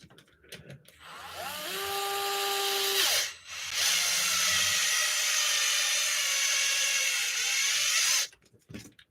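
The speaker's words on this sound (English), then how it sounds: "That's the sound of me stripping out the plastic." A screw being driven into and stripping out plastic during repair of a Redcat Vigilante RC car: a steady power-tool whine with a rising pitched squeal at first, a brief dip, then several seconds of continuous grinding buzz, close and loud.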